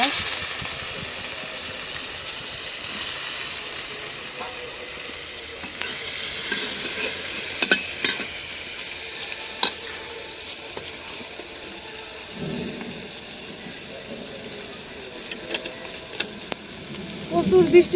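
Chopped onions hit a hot pan for an eggplant curry, giving a steady, close sizzle broken by occasional scraping and stirring clatter.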